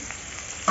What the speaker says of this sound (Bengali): ঝিঙেটার বেগুনটা তেলের মধ্যে দিয়ে দেবো